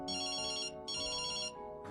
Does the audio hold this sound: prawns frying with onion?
no